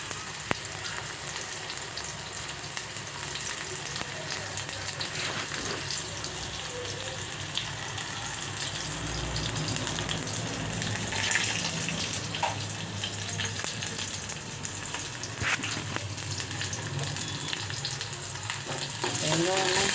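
Onion and garlic sauté in a pan over a low flame with a soft, steady sizzle. Occasional stirring scrapes and faint water-like noises sit in the background over a long stretch with no speech.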